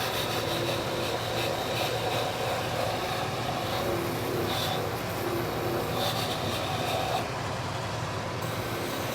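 A steady, continuous abrasive rubbing as a shoe sole's stitching is ground down against sandpaper, even and unbroken with no voices.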